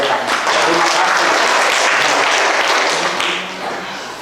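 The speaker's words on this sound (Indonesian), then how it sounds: "Kita beri aplaus kepada mereka." Loud, sustained applause from a crowd of guests fills a wedding reception hall, steady clapping that fades slightly toward the end.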